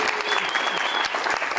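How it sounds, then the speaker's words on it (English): A crowd's steady applause after a stage performance, a dense, loud patter of many hands clapping continuously. "And now hold the applause."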